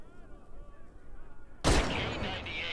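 A K98 bolt-action rifle fires a single loud, sharp shot in the World War II shooter Medal of Honor Above and Beyond, following a quiet stretch with a faint voice, then a ringing decay.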